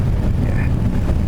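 An airliner's thrust reversers roar during landing on a short runway, a loud, steady low rumble of engine noise that fills the whole moment with no clear break.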